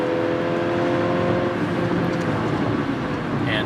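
A 2022 Mercedes-Benz C 300 4Matic sedan with a 2-liter twin-scroll turbo engine accelerates, giving a smooth, steady, loud drone with a low engine hum from inside the car.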